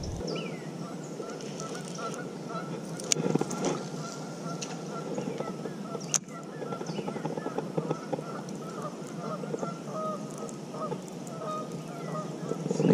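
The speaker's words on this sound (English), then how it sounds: "Geese must be mating, they're going crazy." Geese honk constantly in a noisy, overlapping chorus near a lake during mating season. Loud, repeated calls carry on through the whole stretch with no pause, alongside the sounds of someone fishing.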